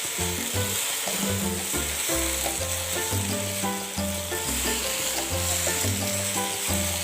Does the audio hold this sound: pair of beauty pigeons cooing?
no